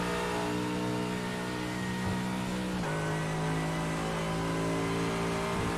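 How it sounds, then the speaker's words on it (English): A Mercedes AMG GT3 with a front V8 revs hard in a racing game at Spa, a loud continuous engine roar holding high revs with a quick gear change midway, no voices over it. "Big beefy V8 up front. Listen to that thing roar."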